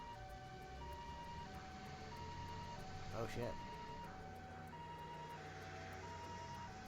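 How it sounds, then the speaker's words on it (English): Emergency vehicle sirens wail in a steady, looping pattern through a city scene in the video game Trails to Azure, heard moderately under the game's background sounds while a man briefly exclaims. "You hear that? Those are sirens."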